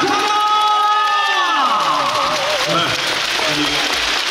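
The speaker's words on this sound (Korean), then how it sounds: "다시 한번 ABK 기업은의 응원 단에게 박수 부탁드리겠습니다." A crowd at a women's volleyball match claps and cheers for the IBK team's cheering squad, a dense, wide wash of applause that keeps going beneath an announcer's voice.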